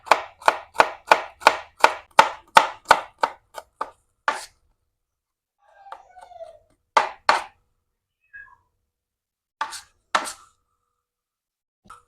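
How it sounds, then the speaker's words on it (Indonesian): Three garlic cloves are coarsely chopped with a knife on a board: a quick run of about a dozen crisp, evenly spaced chops, then a few scattered strikes after a pause, with a cat meowing faintly in between. "Untuk bumbunya kita pakai 3 siung bawang putih aja ya. Ini Bunda cincang kasar."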